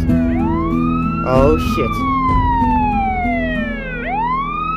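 A police car siren in GTA San Andreas wails with sweeping rising and falling tones, loud and near over game engine rumble, while a voice briefly exclaims.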